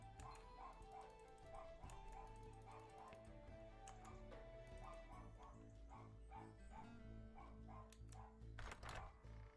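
A dog in the video game Brighter Shores barks in a steady, rapid string of yips and bow-wows, moderately loud and repeating without pause over a busy background of game music.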